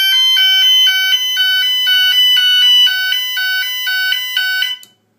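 A GENT conventional fire alarm sounder powered up at close range blares a very loud electronic warble, alternating pulsing tones repeating steadily for about five seconds before cutting off abruptly.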